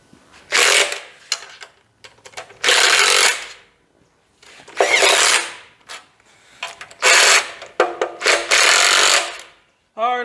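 Bolts on a chrome oil pan with a cork gasket are driven down by a power tool on a '40 Chevy coupe 327 engine: five loud close bursts of whirring, rattling tool noise, separated by short quiet pauses.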